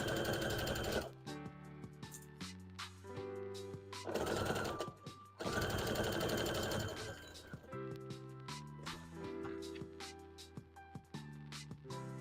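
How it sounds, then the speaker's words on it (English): A sewing machine stitches doll legs onto a doll body in short runs that start and stop, with pauses between bursts over a steady background. "I'm sewing the legs on to the body currently"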